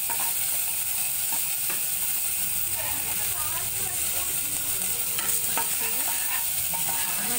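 Cumin seeds and curry leaves sizzle and crackle in a little hot oil for tomato brown rice, a continuous close hiss with scattered pops and stirring scrapes, and a faint voice at times.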